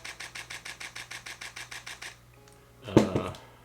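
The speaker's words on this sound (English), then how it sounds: "look at the shutter. I don't know if you can hear it, but it's just amazing" A Canon R5 shutter firing in a rapid burst of about a dozen even clicks over two seconds, close and crisp, followed by a louder handling clatter.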